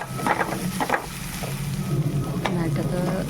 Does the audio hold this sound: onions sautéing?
yes